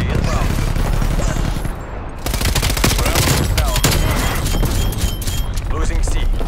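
Dense, continuous gunfire and explosive booms from an artillery strike in Call of Duty: Black Ops Cold War Domination match, loud and sustained with rapid crackling bursts, a brief dip before the barrage resumes, with game voice callouts mixed in.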